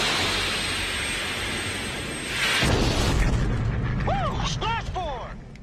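Movie cockpit audio of a fighter jet firing a missile: a loud roaring whoosh of launch and jet rush, with radio voices and rising electronic tones layered over the blast.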